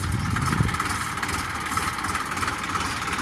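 A tractor engine rumbles low and steady beside a village well, a moderately quiet, continuous idle heard from a short distance with no voices.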